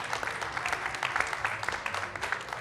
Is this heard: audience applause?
yes